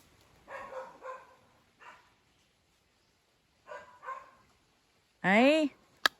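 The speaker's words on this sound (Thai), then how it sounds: "หมาเห่าเสียงดังมาก" A dog barks a few times at a distance, muffled and intermittent, then a louder, close yelping whine cuts in near the end.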